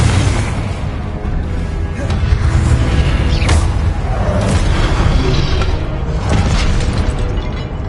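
Confringo blasting-spell explosions from the game Hogwarts Legacy, a loud, continuous barrage of booming bursts and crackling impacts that rolls on without pause, dense and close.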